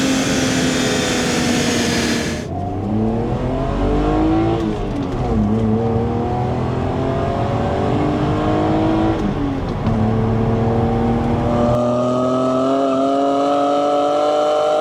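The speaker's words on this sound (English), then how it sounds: "It's actually got some intake noise" A car engine revs hard with a loud, strong intake roar, its pitch climbing and dropping over several rises and falls, steady and close with no talking.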